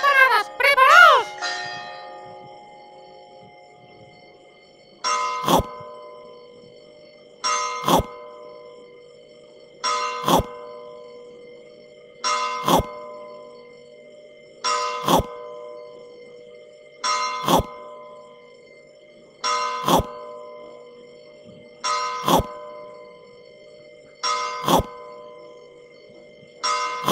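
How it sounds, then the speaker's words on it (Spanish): Spanish church bell tolling New Year's Eve midnight chimes: about a dozen evenly spaced, ringing strikes roughly every two seconds, each with a long decaying hum, following a brief opening jingle. "¡En breve empezarán las campanadas!"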